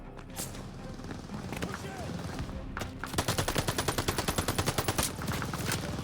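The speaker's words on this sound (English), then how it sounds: "Avoid getting shot. Need to deal with that MG." Machine gun fire in the Call of Duty Vanguard video game, a World War II bunker assault, bursts out as a rapid, steady stream of shots after a couple of isolated gunshots. It runs over constant battle noise with shouted voices.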